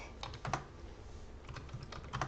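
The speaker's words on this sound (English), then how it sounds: "I'm bad at typing stuff" Keys tapped on a computer keyboard in short irregular bursts, a few sharper clusters of clicks standing out against a quiet background.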